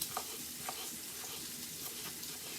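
Shrimp sizzling in a hot pan, a steady close crackle and hiss with faint stirring clicks, no voices.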